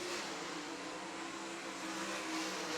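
Dirt track race cars roaring around I-96 Speedway in a GLSS sprint car A-main, a steady, loud, continuous engine drone with no break throughout.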